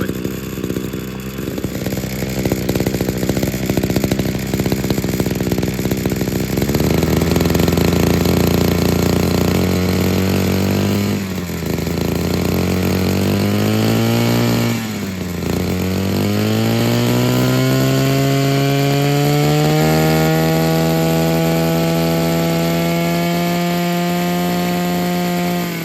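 A small two-stroke garden tool engine runs loudly and steadily, its pitch dipping and rising as the throttle shifts, then settling into a high sustained drone.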